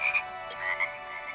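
Cartoon frog croaking in a few short, close, moderately loud croaks with no talking.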